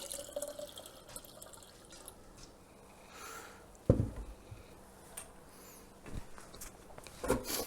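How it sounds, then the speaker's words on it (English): Starter tea poured into a kombucha jar holding SCOBYs: quiet liquid splashes and drips, with a few sharper close splashes over a faint room background. "we're going to put some of the starter tea in there"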